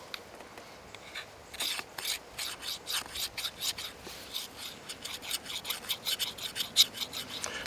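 A knife edge is dragged across a rock to dull it, giving a steady series of quiet, rasping scrapes repeating in an uneven rhythm, close by with no talking.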